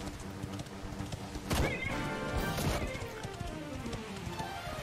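A horse whinnies and its hooves clop in the video game Dragon Quest XI, a rising neigh cutting through steady game sounds and ambient music, with no speech.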